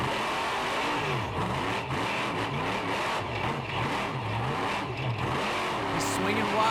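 A Monster Jam monster truck roars and revs hard on a stadium floor at Ford Field in Detroit, its engine pitch rising and falling repeatedly, with crowd noise and an announcer talking over it.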